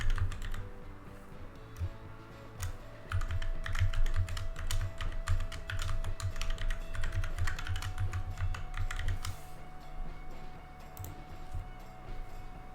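Fingers type a password on a computer keyboard, a quick run of close, crisp key clicks over a low steady hum.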